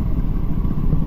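Motorcycle engine running at close range with a steady low rumble, heard alone as the bike is moved out onto a rain-soaked street.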